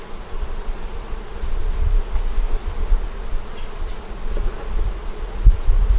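Honeybees buzzing steadily at an open hive, a dense low drone from many insects close by, with a few brief louder bumps near the end.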